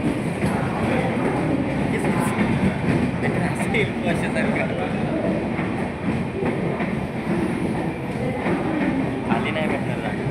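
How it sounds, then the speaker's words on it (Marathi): A passenger train arrives at a railway station platform, its steady rumble and rolling wheel clatter sustained and fairly close, with crowd voices and chatter mixed in throughout. "आता आम्ही ट्रेनची वाट बघत आहोत।"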